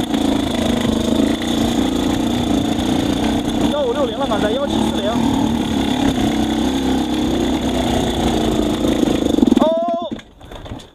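A motorcycle engine fitted with a Lectron Billetron Pro 38 carburetor idles steadily and loudly near at hand, then stalls and cuts out near the end, leaving sudden quiet.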